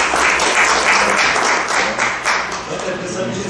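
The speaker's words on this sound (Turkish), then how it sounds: "Ben senin için tam alkışlıyorum" Loud, close audience applause at a book presentation and signing event in Mersin, with rhythmic clapping swelling and fading over a few seconds.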